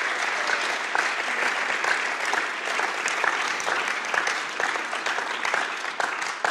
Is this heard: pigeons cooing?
no